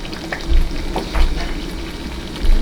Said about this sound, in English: we're gonna let it simmer for a few more minutes